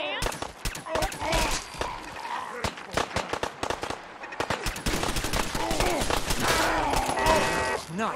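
Gunfight in the video game Fallout 4 at a settlement: rapid bursts of automatic fire and sharp shots crackle repeatedly, loud and close, with game sound filling the gaps between volleys.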